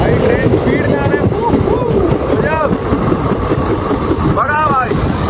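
Sabroom–Sealdah Kanchanjunga Express running at speed, a steady loud rush of wheels and rail noise filling the whole stretch, with a voice talking over it.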